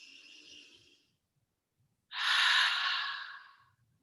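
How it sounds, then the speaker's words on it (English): A long, breathy "ha" exhale through an open mouth during a yoga breathing exercise, loud and close, following a softer breath and a brief silence. "as you breathe out, make a ha with the mouth"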